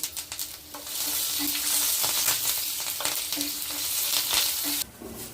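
Curry leaves sizzle and crackle in hot tempering oil for a coconut chutney, a loud, steady frying hiss with sharp spattering pops that runs almost the whole time, then drops off near the end.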